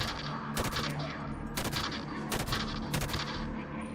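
Gunfire in Halo 5: Guardians aimed at two Jackal snipers, a few loud bursts of shots about a second apart over a steady game soundscape of hum and ambience.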